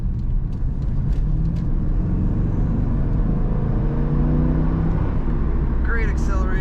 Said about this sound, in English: Here we have a 2003 Chevrolet Corvette. This is the 50th anniversary edition.